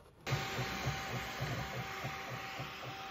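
Bambu Lab 3D printer running a print with Sunlu Hyper PLA filament in black and white, giving a steady mechanical hum and fan noise with regular stepper motor chirps pulsing through it after a brief quiet start.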